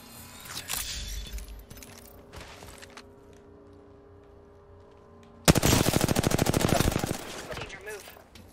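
A shooter video game's weapon opens up in a sudden loud burst of rapid automatic fire lasting about a second and a half, after quieter in-game sounds and faint thuds.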